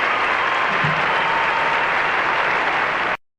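A figure skating crowd in the Target Center Arena applauds in a dense, even roar of clapping that holds steady and then cuts off abruptly.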